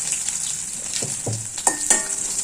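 Curry leaves fry in hot oil with garlic, cumin and fenugreek for a brinjal kuzhambu. A steady close sizzle is broken by a couple of sharp stirring clicks, with no voices.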